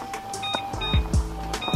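A kitchen timer being set for 4 minutes: several short electronic beeps in an irregular run, close and fairly loud, mixed with small handling knocks and thuds.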